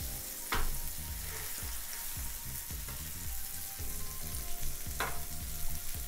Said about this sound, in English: we are gonna place our burgers onto the grill